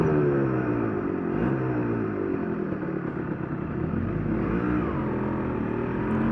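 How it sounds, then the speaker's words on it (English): A Yamaha RD 125 LC two-stroke motorcycle pulls away in third gear, its engine droning steadily up close with rising revs and wind buffeting over the whole stretch, no voices present. "Ooh, what's that, third gear pull away?"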